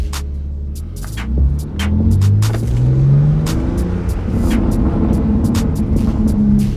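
A BMW G80 M3 fitted with a TFL Italy catback exhaust, set to Sport Plus with everything open, drives along with a steady, deep, throbbing exhaust drone. The note rises in pitch as it accelerates and runs continuously with no talk.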